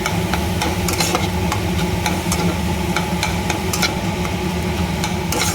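A metal spatula stirs cooked red amaranth greens in a pan, making repeated short scraping clicks over a loud, constant background drone.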